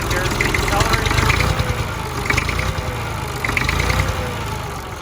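A vintage diesel tractor engine idles steadily after a cold start, a continuous low rumble with a faint rhythmic clatter, close and fairly loud throughout.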